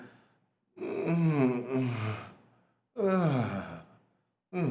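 A voice imitates groaning and heavy breathing in two long, drawn-out breathy bursts with a pause between, close and fairly loud, then a third begins.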